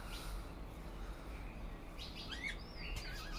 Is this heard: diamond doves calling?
yes